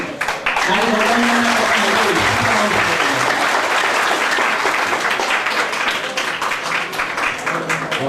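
Steady, dense applause from a seated audience of students and lay followers fills a Buddhist quiz contest hall in Ganabihar, Kathmandu, in 2005, the clapping loud and continuous from start to finish.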